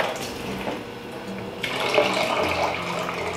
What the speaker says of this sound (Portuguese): Um pouquinho de água, não muito, porque ele vai cozinhar rapidinho.